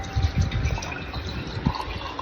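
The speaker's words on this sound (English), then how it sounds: "I'm pouring him some water." Water poured into a glass for a man named Bubba, a soft continuous liquid trickle with low gurgling bursts near the start and again toward the end, close by and fairly quiet.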